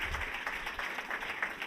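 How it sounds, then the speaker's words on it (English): Audience applause at a Black tech ecosystem event, a dense, steady patter of many hands clapping at moderate distance, with no talk over it. "Let's give them another round of applause."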